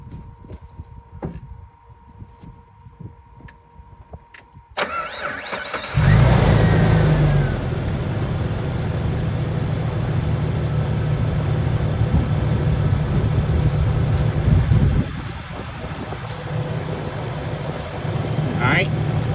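A Jeep engine starts up after a few quiet clicks and settles into a steady loud idle, with a rough country twin tube air compressor running alongside it in a continuous drone, close by.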